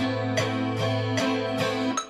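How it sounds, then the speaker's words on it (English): Metronome clicking steadily at 75 BPM, a medium tempo, with four evenly spaced sharp ticks over a sustained tonal drone. "At the moment, the metronome is set for 75 BPM, which is a medium tempo."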